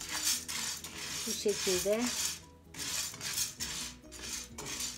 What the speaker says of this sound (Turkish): Şimdi sobanın üzerinde ısınan tavanın içerisine buğdayı koyuyorum.